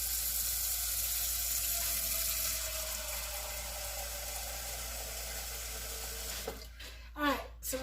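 Tap water runs steadily into a pot for boiling gnocchi, a continuous broadband rush that holds throughout, with a few clanks and handling knocks near the end.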